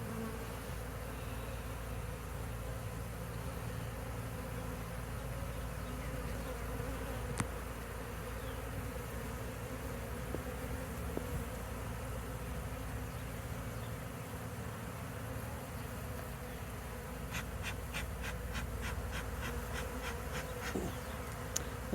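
Honey bees buzz steadily around a log hive being removed, a dense continuous insect drone close by, with a few sharp ticks and clicks near the end.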